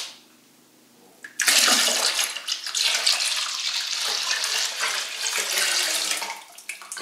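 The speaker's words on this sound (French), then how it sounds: "Donc alors, je mets mon eau claire." Clear water pouring and splashing steadily into a vessel during home beer brewing, starting abruptly after a quiet moment and continuing loudly and close for several seconds.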